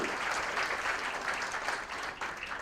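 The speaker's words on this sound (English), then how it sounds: "I think he deserves a round of applause, Akshay Kumar ji." Audience applause at a public health campaign launch event, a continuous patter of many hands clapping, fairly faint and distant, steady across the whole stretch without speech.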